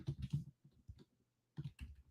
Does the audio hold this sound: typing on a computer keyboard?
yes